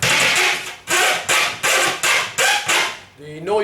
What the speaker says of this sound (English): The noise you can hear is the actual steel cage on the back